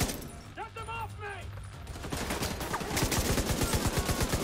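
Rapid automatic gunfire in the shooter Tom Clancy's The Division 2, a dense rattling stream of shots growing louder after a quieter start, with someone shouting briefly over the top.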